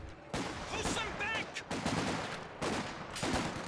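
Machine gun fire pours from a building in a WWII real-time strategy match, sounding as loud, dense bursts of automatic fire with brief gaps, mixed with other battle noise and a voice talking over it.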